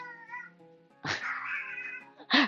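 A domestic cat meows nearby, a drawn-out whining call followed by a louder, strained yowl and a short final cry, all clear and close with no voices over it.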